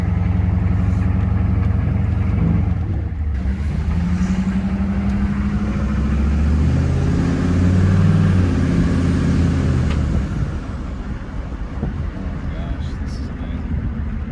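An old car with 94,000 original miles, being driven for the first time in a year, gives a loud, close, steady engine rumble with gear changes, and people talk over it.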